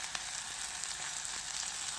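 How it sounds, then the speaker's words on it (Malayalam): Chicken fries in a pan with a steady, loud hiss of sizzling oil and faint crackles and pops throughout, close up with no voices. "ചിക്കൻ പൊരിച്ച് കൊണ്ട് നിൽക്കുക കേട്ടോ."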